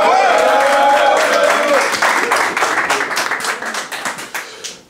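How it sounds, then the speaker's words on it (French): A small audience breaks into applause, with scattered claps that build over talk and murmuring voices, then thin into separate handclaps that fade out. "applaudissez-le"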